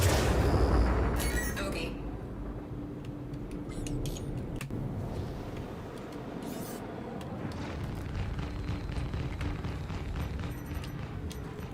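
Missiles firing and exploding during a Star Citizen space dogfight against a fast, fragile M50 ship, heard as a loud rumbling barrage with scattered sharp impacts, while someone speaks briefly over it.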